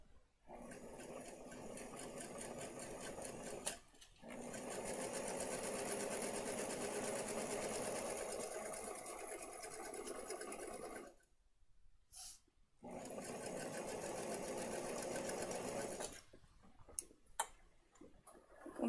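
A sewing machine stitches patchwork fabric in long, loud, continuous runs of rapid mechanical ticking, broken by short pauses and a few isolated clicks near the end.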